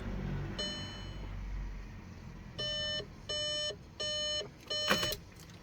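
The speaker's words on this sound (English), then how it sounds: "So now to prime the pump, you need to use the ignition 5 to 6 times, which now primes the pump." An Audi Q3 2.0 TDI Quattro has its ignition switched on and off repeatedly during fuel pump priming, each cycle setting off a clear electronic dashboard chime, with four or five short tonal bursts in quick succession close up.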